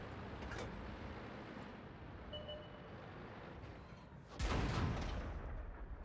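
A tank cannon fires once in World of Tanks, a single loud, sharp blast partway through that rumbles on afterwards, following quieter engine and battle ambience.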